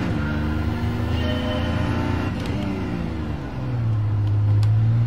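A Daihatsu Copen VGT driving laps in a racing video game: a steady engine drone with shifting tonal pitch, revving and easing under gear changes, close and continuous throughout.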